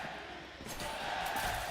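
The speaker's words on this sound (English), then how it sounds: "And the crowd get behind them after that. They're up on the feet, I can see them there." An arena crowd at a VALORANT Masters esports match roars and cheers, with a broad, sustained wash of voices that swells slightly toward the end and holds throughout.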